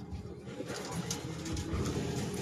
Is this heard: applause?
no